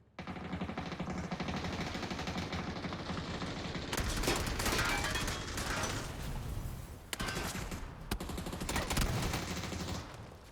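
Sustained automatic gunfire in a PUBG match rattles on in dense bursts, fairly distant and muffled, with louder volleys partway through and no talking.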